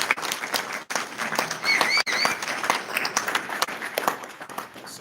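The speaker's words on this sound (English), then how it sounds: "let's give him a round of applause" An audience at a military promotion ceremony applauds steadily, a dense patter of many hands clapping close by for several seconds, with a couple of brief dips and a faint whistle-like chirp partway through.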